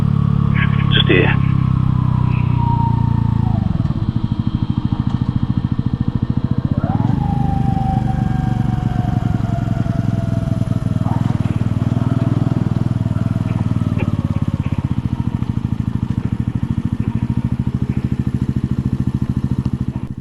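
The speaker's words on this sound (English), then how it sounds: "have a ride-along on a Mutt Motorcycles Fat Sabbath 125" A Mutt Motorcycles Fat Sabbath 125 on the move, its small single-cylinder engine droning steadily up close with wind rush, pitch rising and dropping through gear changes as a rider talks over it.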